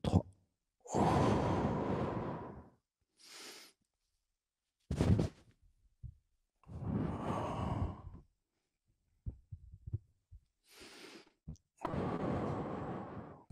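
Deep breaths taken during a guided relaxation exercise, several long, airy inhales and exhales separated by silences, close and clear, with no speech between them.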